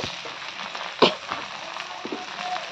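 Okra bhaji fries in a pan with a steady close sizzle, broken by a sharp crackle and a few small pops and scrapes as the vegetables are moved.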